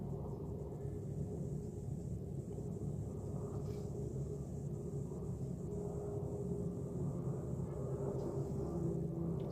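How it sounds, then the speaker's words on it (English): An airplane passes overhead as a faint, steady, low rumble that lasts throughout, heard indoors with no speech. "It's an airplane flying by"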